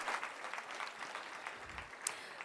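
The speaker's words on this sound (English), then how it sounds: "Let's give the spirit of BLF a round of applause that it so deserves" Applause from an audience at a literature festival in Bangalore, a soft, distant patter of clapping that holds steady, with one brief sharper clap near the end.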